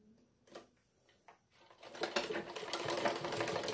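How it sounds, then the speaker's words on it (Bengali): A sewing machine runs a steady, continuous stitch along a half-inch folded hem on a lungi, after a few faint handling clicks at the start; the motor hum is close, fairly quiet and without speech. "এরকম করে লক করে এই আধা ইঞ্চি ফোল্ডের ঠিক মাঝ বরাবর দিয়ে আমি সেলাই করব।"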